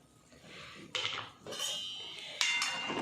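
Spoon scraping and clinking against a pot while stirring cooked masoor dal with coriander: a few distinct metallic scrapes and taps, close and moderately loud, with no talking.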